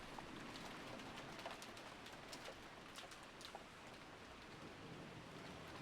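Steady rain falls at Hinamizawa's empty bus stop in the Higurashi When They Cry video game, a soft even hiss that holds for the whole stretch with a few faint bird-like chirps above it. No one speaks.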